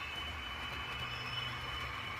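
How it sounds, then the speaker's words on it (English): A Class 218 model train runs into a fiddle yard on a model railway layout, giving a steady, continuous rolling rumble with a faint high whine, moderately quiet and with no talk. "That Class 218 is now coming into the yard."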